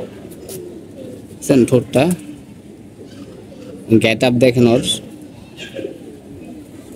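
Army breed pigeons coo in two or three close, throaty bursts, with someone talking over and between the calls.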